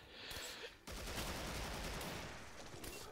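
Sniper fire and other gunfire in the video game Killing Floor, heard as quiet, dense broadband bursts that crackle almost continuously, with a short lull before the firing picks up again.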